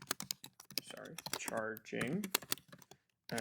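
Rapid clicking keystrokes on a computer keyboard while code is typed, a steady patter of close taps running under a man's speech, ending with a brief pause and a final burst of keys.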